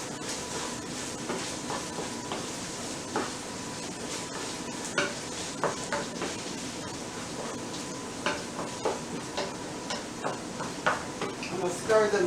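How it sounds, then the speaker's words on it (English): Manicotti noodles stirred in a pot: soft bubbling water under repeated clinks and knocks of a utensil against the pot, the taps growing firmer toward the end. "I'm going to stir the noodles a little bit"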